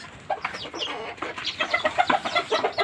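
Bantam chickens cluck in a dense run of short, bright calls, several birds overlapping at close range and growing busier and louder toward the end.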